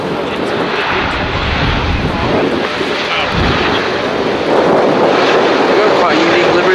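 An Airbus A330 at Manchester Airport gives a steady, loud roar of engines with broadband rushing noise that builds slightly toward the end, while people talk over it.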